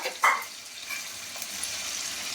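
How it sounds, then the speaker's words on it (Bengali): Onion and garlic frying in a pan as the base for a prawn dish, a soft continuous sizzle with faint stirring scrapes, close and steady, no voices. "আর এখানে আমি চিংড়ি মাছের জন্য পেঁয়াজটা ভেজে নিচ্ছি ভালো করে।"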